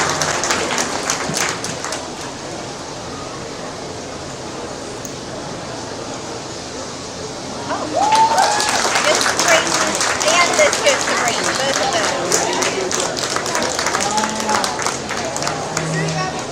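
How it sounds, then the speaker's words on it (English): A crowd applauds the first division of kids at a 2024 county steer show, the clapping swelling midway into a broad, steady round over a noisy arena backdrop with faint crowd murmur. "let's go ahead and give these kids a round of applause for your first division"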